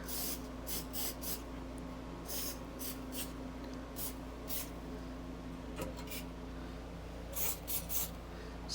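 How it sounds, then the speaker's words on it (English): Oil sprayed onto the window regulator mechanism inside a vintage tin grille Dodge door, heard as several short hissing bursts in an irregular rhythm over a steady low hum. "Spray the mechanism down so it operates nice."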